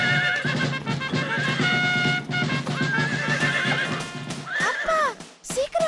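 A cartoon horse neighs and whinnies in loud, repeated calls, with a rhythmic clip-clop of galloping hooves running beneath, set against a busy musical score and a battle-ready scene.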